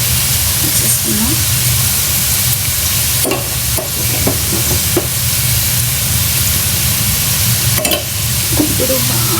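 Ginger, garlic and green chilli paste sizzles and fries steadily in hot oil while being stirred for palak potato masala curry, with scraping stir strokes breaking through a continuous loud sizzle.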